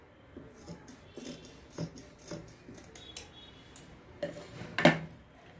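Scissors cut a saree border cloth down the middle in a string of close, crisp snips and clicks, irregular and moderately quiet, with a sharper snap near the end.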